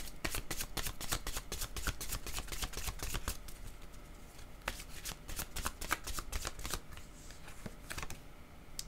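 A deck of oracle cards is shuffled close up, with a dense run of rapid riffling flutters and quieter pauses between them, and no voices.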